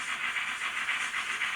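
Model trains accelerate around a layout with a steady hissing whir that swells and dips in regular pulses, running alone without any voices.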